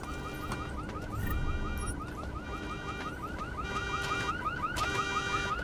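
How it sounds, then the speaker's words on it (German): A car alarm in the video game Deus Ex: Mankind Divided sounds a steady repeating electronic warble that cycles on and off, loud and continuous with no talk over it. "weil da als das Teil gegenfliegt, löst er als den Alarm aus"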